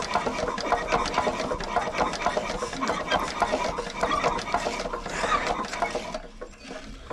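A 1970s Hatz diesel engine on a compactor roller being cranked over, a rapid, steady mechanical chatter running for several seconds close up before it cuts off near the end.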